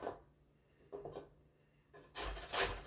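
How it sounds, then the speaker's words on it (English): An apple rasped against a regular grater for turkey meatloaf: a few separate scratchy strokes, faint at first and growing louder and fuller at the end, with no voices. "so we're just gonna grate our apple on"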